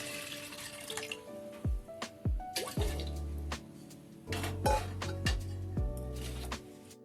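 Water being poured into a pan on a stove before jaggery is added for cooking, with a steady running trickle, a few clinks of utensils against the pan, and no voices.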